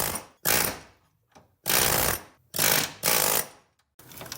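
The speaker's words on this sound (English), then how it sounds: "we're going to have to break out the air hammer" Loud bursts of a pneumatic air hammer working a seized bolt on a 2007 Subaru Impreza rear wheel bearing and CV axle, in five or six rapid bouts separated by brief silences, close by.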